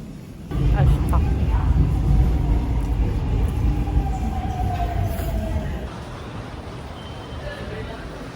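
Subway train at a station platform, a steady loud rumble of the arriving or idling train with a faint descending whine, easing off toward the end.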